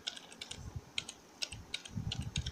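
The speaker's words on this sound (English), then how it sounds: "we're gonna type in" Rapid keystrokes on a computer keyboard as a disk command is entered to clear a hard drive's read-only attribute, irregular clicks in short bursts, close and fairly quiet, with no voices.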